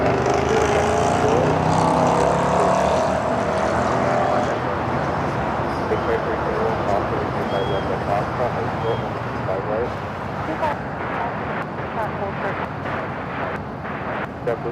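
A JetBlue Airbus A321 lands at LAX with a loud, sustained jet roar and rumble that fades slightly toward the end. A voice talks at times over it.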